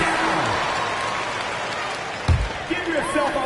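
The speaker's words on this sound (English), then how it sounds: "Give yourself a round of applause" Crowd applause in the NBA 2K26 basketball video game during the third quarter, a broad, steady wash of clapping and arena noise with a brief louder burst partway through.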